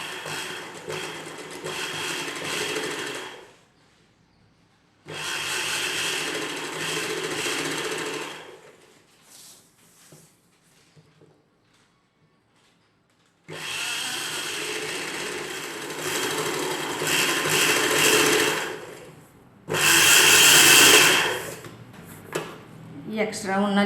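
Sewing machine stitching lace along the hem of an umbrella-cut dress, running in several loud, steady bursts of mechanical whirring separated by pauses with faint handling clicks.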